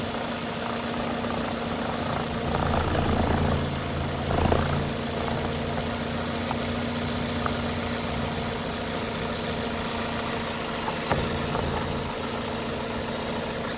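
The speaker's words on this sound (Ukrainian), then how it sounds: "Мотор працює тихо, рівно, не димить" A Toyota Avensis 1.8 engine with Aisin automatic transmission idles steadily and quietly nearby, an even low hum with a smooth rhythm, no voices.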